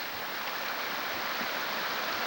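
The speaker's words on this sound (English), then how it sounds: "The Cibola Creek." Cibola Creek flowing steadily at a campsite around sunset, a constant broad rushing wash of water, close and unbroken throughout with no voices.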